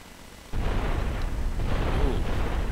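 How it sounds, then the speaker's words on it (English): A slow-motion explosion in GTA San Andreas: after a brief quiet moment, a heavy, sustained roaring blast sets in and rumbles on loudly to the end, with no voices over it. "Ooh, that's some pretty explosion. On top of that, in slow motion."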